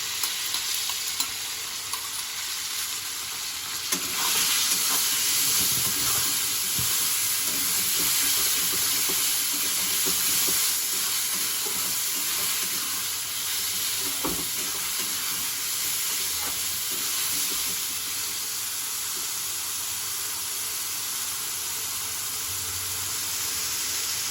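A paste of ground tomato, garlic and green chili fries over a high gas flame with a continuous loud sizzle and hiss, and occasional stirring scrapes sound close by throughout.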